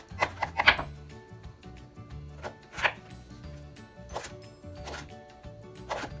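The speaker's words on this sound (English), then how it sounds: "now all I'm going to do is I'm just going to cut this into cubes" A knife cutting potato into cubes on a board, a series of close, crisp chops in uneven bursts with short pauses between strokes.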